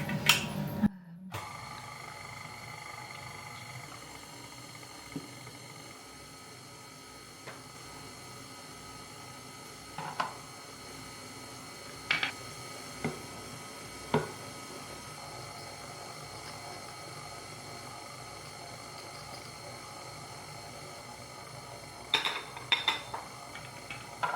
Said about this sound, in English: Right, give it a mix.